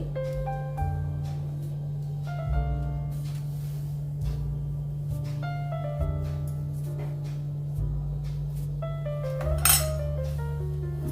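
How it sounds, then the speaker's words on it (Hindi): A fork taps and clinks against a plate while pressing designs into oil-free pea snacks, giving light intermittent metallic ticks over a steady low electrical hum. "अभी इसको कांटे चम्मच से डिजाइन बनाएंगे।"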